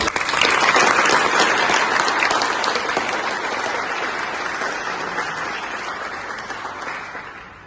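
A crowd at a company New Year 2024 celebration claps steadily after a performance, loud at first and slowly tapering off, with no talking over it.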